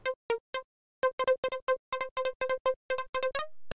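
A plucky synth lead programmed in Serum, with a filter envelope shaping each note, plays a quick staccato melody of short bright plucks in an irregular rhythm, clean and alone, the final note sliding upward.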